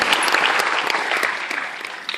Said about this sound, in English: And I'd ask you to now applaud yourselves, and if your guests applaud you for your presence here